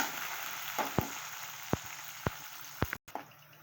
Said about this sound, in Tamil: கறிவேப்பிலை சேர்த்து வதக்கலாம்.